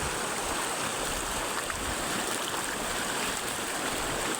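Water flowing at Mandaguhong Falls in Tambunon, Surigao del Sur, makes a dense, steady rushing roar that stays constant throughout, with no voices.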